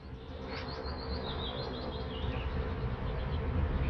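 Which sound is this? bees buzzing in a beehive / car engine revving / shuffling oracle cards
bees buzzing in a beehive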